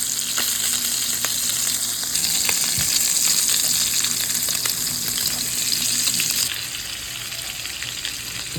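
Butter sizzles and fries in a pan with burgers, a steady crackling hiss with scattered pops. It drops a little quieter near the end.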